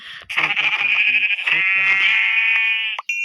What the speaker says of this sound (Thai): โอเคงั้นก็ทุบแกะไปเลยนะครับ